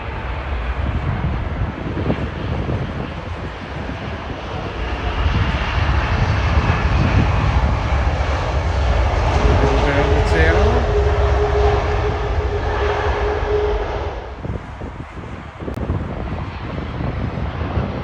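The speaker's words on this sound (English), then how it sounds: "now we've got the American Airlines One World livery 777" An American Airlines Boeing 777 in oneworld livery roars past with loud, steady jet engine noise that swells mid-pass and then eases, buffeted by wind on the microphone, with some talking in the background.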